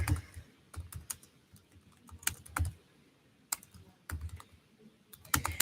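Computer keyboard typing in short bursts of key clicks separated by pauses, close and moderately loud, with no talk over it.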